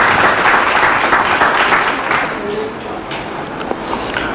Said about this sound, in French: J'aimerais vraiment qu'on applaudisse